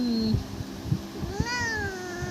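A pet cat named Devin gives a clear, close meow with a rising then falling pitch over a steady background hum.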